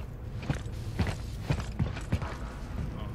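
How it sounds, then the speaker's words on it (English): A door locking mechanism in the video game The Callisto Protocol gives a series of about five sharp mechanical clunks and creaks, like a ratcheting latch, spaced roughly half a second apart over a steady low hum. "Or lock the door, rather."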